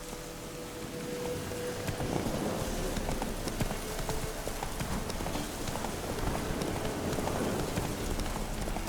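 Hooves of Geralt's horse Roach clip-clop steadily in the rain in The Witcher 3, a continuous trotting patter over a dense wash of falling rain, close and fairly loud.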